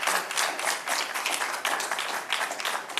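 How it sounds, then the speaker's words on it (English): Vigorous applause from an audience, dense clapping with slight surges and dips in intensity across the few seconds. "Let's give them a round of applause, folks."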